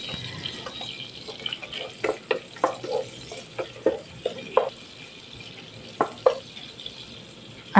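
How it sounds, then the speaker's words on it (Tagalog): Chopped onion sautés in two to three tablespoons of hot oil in a saucepan, with a soft background sizzle broken by scattered sharp clicks and scrapes of stirring, close and without talk. "nagpainit ako ng oil, mga 2 to 3 tablespoon lang yan. At naglagay ako ng onion."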